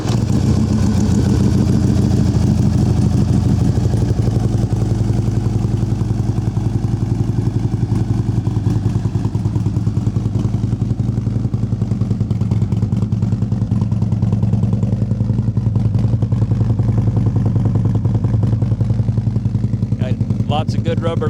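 Harley-Davidson CVO Ultra Classic FLHTCUSE8 with anti-lock brakes, engine running with a deep, steady, loud idle rumble that holds for the whole stretch.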